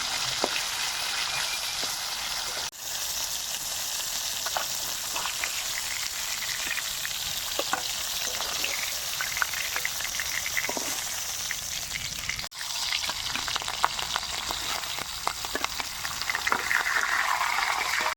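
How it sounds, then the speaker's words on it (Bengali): Fish fries in oil in a wok, with a continuous close sizzle dotted with crackles and pops that run for the whole stretch. There is no talking. "আরেক সাইড করে ভাজতে দিয়ে দেব।"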